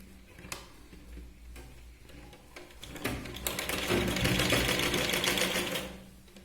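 A sewing machine stitches a princess cut blouse, running a steady rapid mechanical rattle that grows louder and denser in the second half, with no voices.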